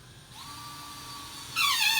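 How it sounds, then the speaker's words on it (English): A power drill whirs as it drives screws into drywall, its motor whine holding steady for over a second before ramping up into a louder, higher buzz near the end, close by with no talk. "finish drilling putting all these screws in"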